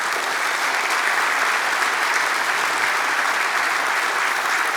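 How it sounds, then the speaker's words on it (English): An audience at a judicial investiture ceremony applauds a distinguished guest, with dense, sustained clapping held at a steady level throughout. "So let's recognize and thank our distinguished guest, Judge Brett Kavanaugh of the Supreme Court"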